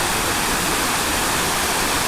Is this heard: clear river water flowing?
yes